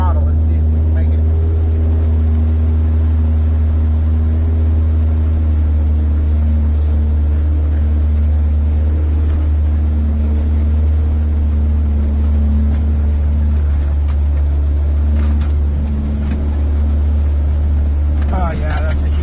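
Geo Tracker engine working up a hill at about half throttle after a transmission swap, a constant low rumbling drone with steady tone inside the cab, and a person speaking over it.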